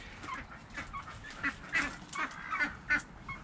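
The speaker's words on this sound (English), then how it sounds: "The ducks, the chickens do like them" Ducks and chickens call in a farmyard beneath a Java plum tree, a scattered series of honking, quacking cries at moderate distance, repeating irregularly without any talk.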